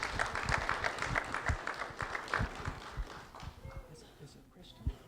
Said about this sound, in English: Round of applause for Cristian Alvarado